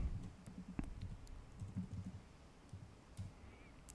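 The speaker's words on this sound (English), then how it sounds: "Now let's type in dir." A short command typed on a computer keyboard, a quiet irregular run of key clicks with brief pauses, close and soft over faint background hiss.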